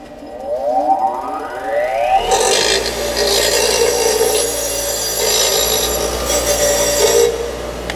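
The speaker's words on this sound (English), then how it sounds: "let's take this bracket over to the wire wheel and do the same thing that we did to the shims." Bench wire wheel spinning up with a rising whine, then harshly scrubbing a steel brake caliper bracket in a loud, continuous rasping grind that wavers as the part is moved, no talking.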